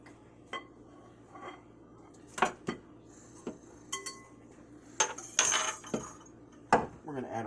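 Butter for scones being cut up on a hard surface, a series of sparse light clinks and knocks of a knife or utensil against a plate or bowl, fairly quiet and close, with faint background.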